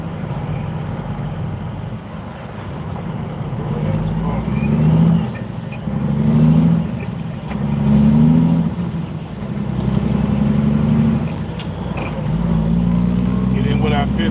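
Road traffic on Route 24, heard from inside a moving truck, forms a steady engine rumble with a low, rhythmic drone that swells and fades while the driver talks over it.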